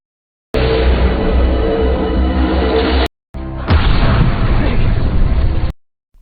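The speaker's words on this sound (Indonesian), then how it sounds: "terjadilah ledakan yang sangat dahsyat akibat ledakan si monster" A monster blows apart in a film with a huge, loud, roaring blast: two long, dense bursts, each lasting a couple of seconds, separated by a brief cut.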